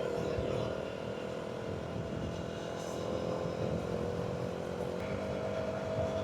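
A KTM Duke 200 motorcycle cruises along a quiet Malaysian road, its engine droning steadily with wind rush and no pauses.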